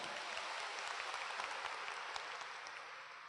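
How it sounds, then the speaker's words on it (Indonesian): An audience at a Tiens motivational event in Bandung claps, a dense, fairly faint wash of applause that tapers off slightly by the end. "aplaus buat Anda semuanya"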